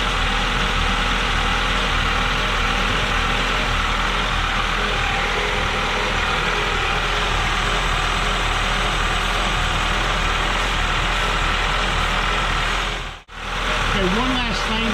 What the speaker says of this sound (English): We're going to listen to the engine